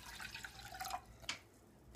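Water poured into a cooking pan in a kitchen while preparing bamboo shoots: a short trickle and a few drips, a small splash, then a sharp clack at the very end.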